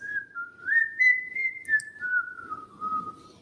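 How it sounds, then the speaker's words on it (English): A single person whistles one long, wavering melodic line, close and clear against near silence, rising and falling smoothly for several seconds. "Listen to the whistles in the sky."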